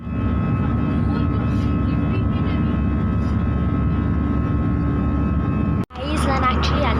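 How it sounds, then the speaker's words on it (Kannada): Airplane taking off, heard from inside the passenger cabin: a loud, steady engine roar fills the whole stretch, with a brief sharp cut just before the end before the roar resumes. "ಸೊ ಇವಾಗ ಟೇಕ್ ಆಫ್ ಆಗುತ್ತೆ"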